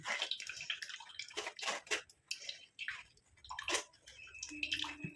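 Henna leaf liquid poured back and filtered through a strainer, giving close splashing and trickling water sounds in uneven bursts with short drips between them, with no voice.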